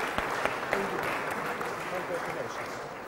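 Audience applause at an award ceremony: steady, moderately distant clapping from a crowd, continuous for a few seconds with a few sharper individual claps standing out.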